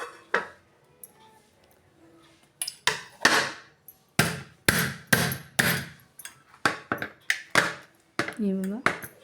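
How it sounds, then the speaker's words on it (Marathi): A steel mould of caramel pudding is knocked against a plate to turn the pudding out, giving a series of sharp, close metallic taps and clinks in irregular bursts, with a short ringing ping near the end. "आपण या प्लेटमध्ये काढून घेऊया हे बघा मी प्लेटमध्ये काढून घेणार आहे"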